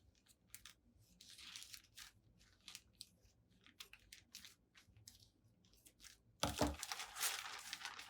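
Plastic souvenir item from a tourist bureau being cut apart with scissors, a run of crisp crinkling snips and crunches, then a louder burst of rustling plastic near the end, close and with no talking.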